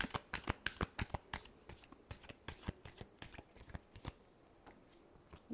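Tarot cards being shuffled by hand in a quiet room, a rapid run of crisp riffling flicks and taps, close and fairly soft, with uneven bursts and brief pauses between them.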